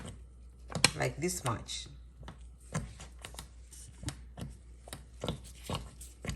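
Knife slicing through a block of unsalted butter while cooking grits with salmon and eggs, a series of close, crisp cuts and soft taps on a board under a speaking voice.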